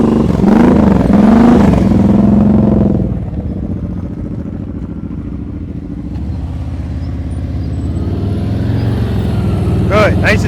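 A motorcycle idles through a slow-speed turn during an advanced slow-riding practice session, its low engine drone steady and continuous, swelling louder at the start and easing off, with a faint clatter near the end.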